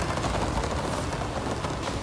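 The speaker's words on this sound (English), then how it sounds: "just to test out the anti-lag, and it sounds nuts" Anti-lag exhaust pops from a car in the racing game Forza Horizon 5, a dense, continuous crackle of rapid bursts at steady loudness with no talking.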